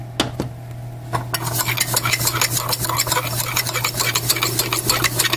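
A spoon briskly stirs a Cuban coffee mixture, scraping and clinking rhythmically against the cup in rapid, continuous strokes under a steady low kitchen hum, close and fairly loud, with no talking.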